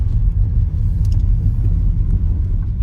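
Ford Shelby sports car rolling over a gravel road, a loud, steady low rumble of engine and tires heard from inside, with faint scattered crunches of stones.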